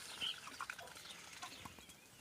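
Small birds chirp and cheep in scattered bursts, with soft clucking and a faint outdoor background; no talking.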